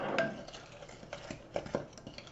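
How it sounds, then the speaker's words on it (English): Sugar, flour and salt being stirred together in a bowl make faint, quiet clinks and light scraping taps of a utensil, scattered and soft. "I'm just going to stir these together a bit."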